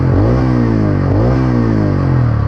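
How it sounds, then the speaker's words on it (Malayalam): A 2024 motorcycle with a fairly bassy exhaust revs continuously, a loud, close, deep throbbing note that rises and falls in pitch as the throttle is worked. "പിന്നെ അതിൻ്റെ എക്സോസ്റ്റ് നോട്ട് ജസ്റ്റ് ഒന്ന് കേൾപ്പിച്ചു തരാം."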